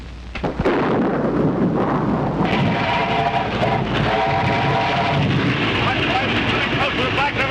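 A heavy storm beside a rain-swollen river near a bridge in a 1932 film: a loud, unbroken roar of wind and rain with deep rumbling thunder swells, and faint whistling tones running through the din.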